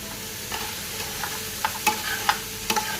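Vegetables frying in oil in a pan for a Cornish pasty filling, a soft steady sizzle with scattered sharper crackles and pops, close and fairly quiet, no talking.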